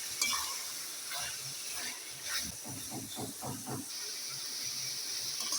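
Minced meat and about half a kilo of sliced onions stirred together in a hot pan for a Pakistani khara masala keema, with steady hissing sizzle and a run of scraping stir strokes in the middle, close and moderately loud.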